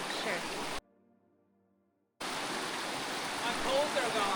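Water rushes loudly and steadily as a runner crosses a stream during the Quebec Mega Trail race, a broadband wash cut by a short near-silent gap before the flow returns.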